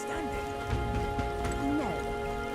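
Steady rain patters in the fantasy video game Metaphor: ReFantazio, a soft, even wash of falling drops under sustained tonal music.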